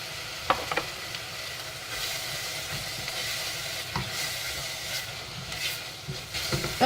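Sliced chorizo and jamon serrano fry in a pan with a steady, soft sizzle and hiss, broken by occasional clicks and scrapes of stirring.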